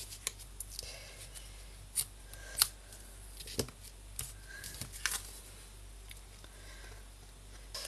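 Scissors trim ribbon on a diagonal for a girl's birthday invitation card, making a few faint, close snips and crisp cutting clicks spaced irregularly over quiet room tone, with light paper rustling between them.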